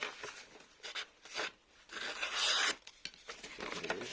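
Yakut knives slicing damp paper in a greenhouse, a series of short raspy scraping strokes, quiet and close, with one longer drawn cut in the middle.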